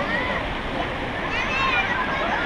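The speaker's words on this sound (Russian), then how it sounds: "О, пошла волна" A sea wave crashes and washes over a slippery rocky shore on Enoshima island, Japan: a close, loud, continuous splashing rush lasting throughout, with someone talking over it.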